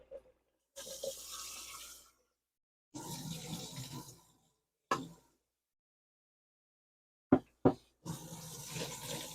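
Water poured out of a flower vase, heard as several separate rushing, splashing bursts of a few seconds each, close by and moderately loud, with short silent gaps and a couple of sharp knocks between them.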